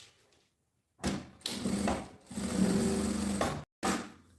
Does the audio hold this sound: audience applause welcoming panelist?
no